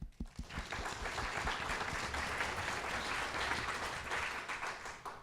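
Sustained applause from an audience at a Calgary Ward 7 candidates' debate in Montgomery, a dense wash of many hands clapping at moderate distance, steady throughout.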